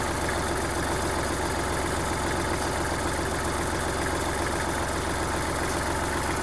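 A Kubota GL-220 Japanese mini tractor engine idling with its side covers removed, a steady loud continuous rumble with even pulsing, close up and without talk.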